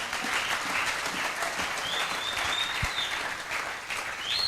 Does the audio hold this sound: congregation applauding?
yes